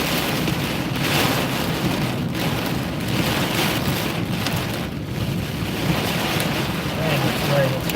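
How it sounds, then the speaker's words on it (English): Heavy rain falls in a video game, a loud, constant roaring wash of noise that stays even throughout, like a downpour with wind behind it. "Man, this rain is heavy."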